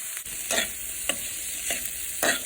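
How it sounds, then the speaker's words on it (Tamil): Cabbage sautéing in oil in a kadai, with soft sizzling under several distinct stirring scrapes spaced about half a second apart, close and fairly quiet. "ஒரு கடாயில் ஆயில் போட்டு கோஸை நல்லா வதக்கி எடுத்துக்கிறணும்"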